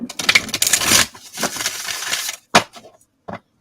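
Oracle cards riffle and clack in quick rustling bursts up close, a long shuffle followed by a few short taps and pauses.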